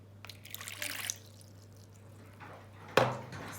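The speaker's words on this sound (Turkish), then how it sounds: "önce su şeker dökeceğiz" Water and sugar are poured into a bowl for pizza dough, a soft trickle and splash near the mic, ending in a brief louder splash over a steady low hum.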